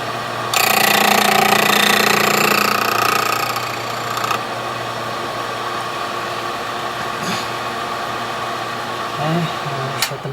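HPC Blitz key machine code cutting a tubular Ace vending machine key: a loud, harsh grinding whine that starts abruptly, then settles into a steady mechanical hum with a few clicks.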